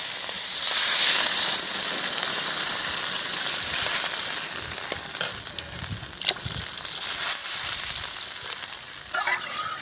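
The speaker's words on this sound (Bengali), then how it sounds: "এবারে জল ঢেলে দেবো।" Water is poured into a pan of fried spice paste for a thin curry of latha fish, setting off a loud, steady hiss and sizzle that carries on throughout, close up with no talking.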